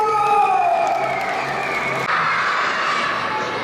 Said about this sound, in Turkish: Alkışlarınızla Nasrettin Hoca geliyor!